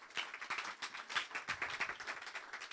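An audience claps at a ceremony in Brussels with a jury and a minister present: dense, steady applause of many hands, fairly quiet and distant, lasting the whole stretch with no talk over it.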